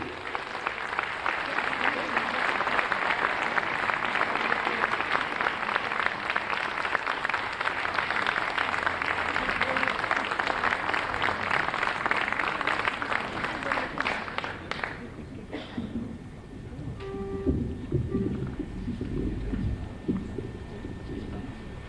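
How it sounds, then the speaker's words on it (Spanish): A sustained burst of audience applause greeting a performer at a Sefarad'92 commission inauguration in Argentina, loud, dense clapping for about fifteen seconds before fading into quieter room sound. "El aplauso para recibir a Eleonora Noga Alberti."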